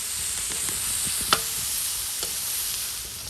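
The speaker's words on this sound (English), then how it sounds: "And I'm going to add in my onion. And you want to fry this around for about a minute or so." Onion and seasoning frying in a pan for Guyanese fried spinach and shrimp, a steady broadband sizzle with a few soft stirring scrapes and one sharp clack of a utensil, no talking.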